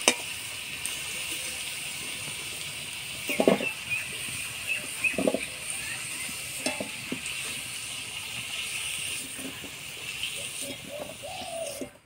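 Potatoes frying in a pan with turmeric and salt give a steady close sizzle with a few stirring scrapes and clatters, and a voice talks over the cooking.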